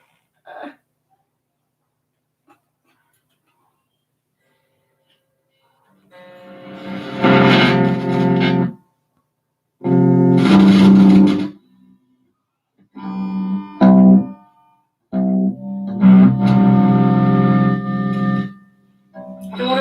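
An electric guitar played through an amplifier's distortion channel: a few sustained, buzzing chords and short stabs separated by silences, loud and close, with no voices.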